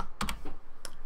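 Computer keys tapped in a short quick burst, a few crisp clicks close up with a brief pause between them, alone without speech.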